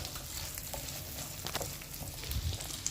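Onion and garlic sizzle softly in melted butter for a broccoli soup, a quiet, even frying crackle with a few light stirring taps and no speech.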